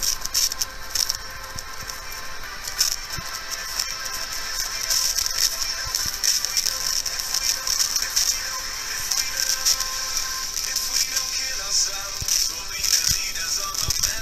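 Thin, buzzy music crackles from the electric arc of a 555-timer plasma speaker, a harsh rattling hiss carrying the melody at steady loudness throughout.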